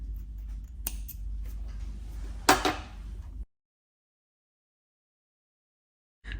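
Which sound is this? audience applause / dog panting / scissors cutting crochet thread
scissors cutting crochet thread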